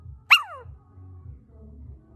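A small dog lets out a single sharp, high yelp-like bark up close, followed by low muffled rumbling and faint background sound.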